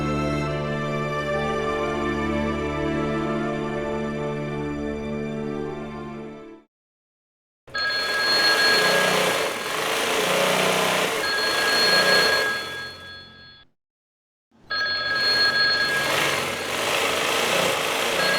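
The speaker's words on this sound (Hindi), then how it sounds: "कब से फोन बज रहा है" A telephone bell rings in long repeated bursts separated by short silences, loud and close, with no one speaking.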